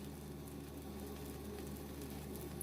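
An Otomi stamped corn tortilla from Puebla, Mexico, cooking on a hot griddle after its last flip gives a faint, steady low sizzle with no voices, ending in a brief soft tap.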